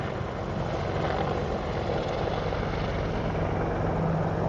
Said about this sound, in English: They're doing, I assume, helicopter training.